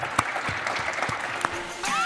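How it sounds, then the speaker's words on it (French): Brief applause from an audience at a Les Clés de la Ville event in Amiens, greeting a guest. Scattered claps with a few sharper hits run under ongoing sound, with a rising tonal sweep near the end. "Applaudissements pour vous."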